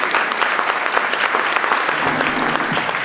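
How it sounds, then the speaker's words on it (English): An audience at a nonprofit advocacy breakfast gives panelists a round of applause, dense and steady clapping filling the room at an even, fairly loud level from start to finish. "Let's give our panelists a round of applause for being here this morning."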